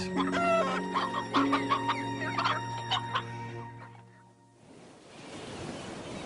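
Several chickens cluck and cackle close by in a busy chorus, then fade into a steady rush like surf or wind.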